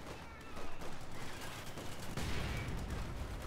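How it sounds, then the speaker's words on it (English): Light machine gun fire in the strategy game Company of Heroes 2, rapid bursts mixed with other battlefield gunfire in a busy, fairly quiet combat scene. "Focusing fire with LMGs."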